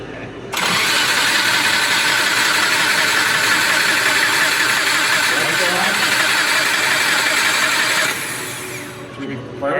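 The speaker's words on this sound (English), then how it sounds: "Crank it one more time and then we'll hook it before it see if it starts." A Subaru engine in an off-road build is cranked by its starter, giving a loud, steady churning whir that runs for about eight seconds without catching and then stops.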